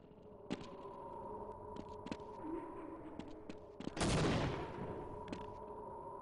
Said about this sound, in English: you want to do a grenade boost